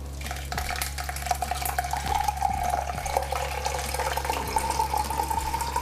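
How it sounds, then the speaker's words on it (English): Ginger water pouring and trickling through a strainer, a steady wet rush with occasional clinks of utensils against a bowl, over a low background hum. "run it through your strainer"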